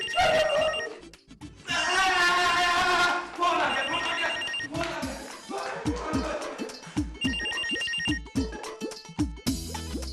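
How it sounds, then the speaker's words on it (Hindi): A telephone rings with repeated electronic tones, loud and close, mixed with music and voices in the background. "टेलीफोन!"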